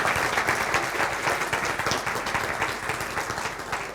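Audience applause at a TEDx talk, a loud, dense round of clapping from a large crowd that holds steady throughout and eases slightly toward the end.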